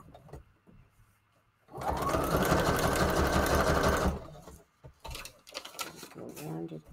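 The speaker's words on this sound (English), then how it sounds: "Some of them are gonna get sewed twice, but it's just how it is." A sewing machine stitches through paper for a Christmas craft in one loud rapid run of about two seconds, followed by quieter handling noises and a brief voice.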